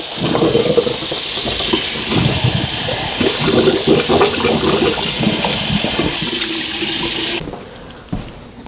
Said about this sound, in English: I'm going to turn the hot water on over on the other side. I'm just going to let that keep running for a minute.